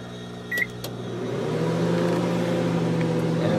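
A 1987 GE SpaceMaker II microwave oven runs at power level 50, a few beeps and a click as it starts, then a steady close drone and buzzing hum that swells and holds.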